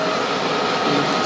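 A balancing machine spins a Cosworth crankshaft with a steady, loud whirring drone that holds even for the whole moment, with no talk over it.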